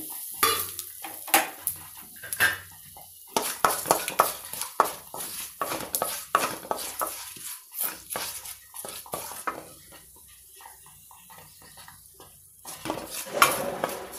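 Mustard seeds, asafoetida and curry leaves sizzling in oil for a peanut chutney tempering, with repeated spoon clatter and scraping against a metal pan over a soft crackle, no voices.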